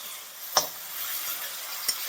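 A spoon stirs a dry stir-fry of moringa drumstick pods in a pan with a splash of drumstick stock. Two sharp utensil scrapes against the pan sound over a soft, continuous sizzle.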